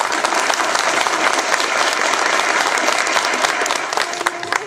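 Dense, steady applause fills the air at a show-jumping competition as the winners are honoured, a loud crowd clapping continuously from start to finish.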